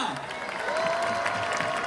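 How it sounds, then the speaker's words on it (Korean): A university festival crowd gives a warm round of applause for amateur rappers, a thick outdoor wash of clapping and crowd noise with a faint voice or tone threading through the middle. "뜨거운 박수가 필요합니다"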